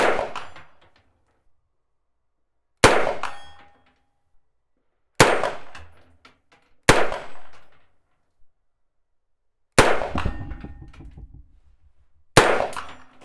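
Six sharp metallic clangs ring out at irregular intervals, each decaying quickly into silence, as rifle shots from a Heckler & Koch HK243 strike a steel gong target at 100 metres.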